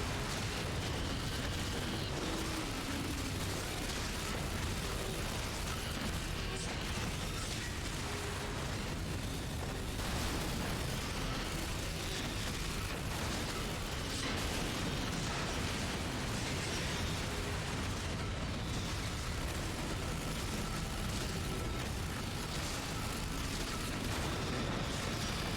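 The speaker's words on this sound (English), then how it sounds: "Was this 50mm Vulcan cannon?" Sustained heavy 50mm Vulcan cannon fire in Metal Gear Solid 4, a dense, continuous roar of rapid booming shots and blasts at steady loudness, with no talk.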